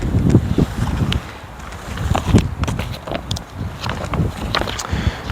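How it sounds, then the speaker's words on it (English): Gusty wind buffets the microphone outdoors in a steady low rumble, with occasional light clicks and knocks close by as a baseball backstop net frame is assembled. "Pretty windy today"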